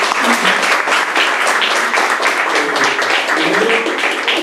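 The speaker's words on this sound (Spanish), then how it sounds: "les damos un aplauso a los dos expositores." An audience at a panel on democracy and socialism applauds two speakers, loud continuous clapping close by with faint voices underneath.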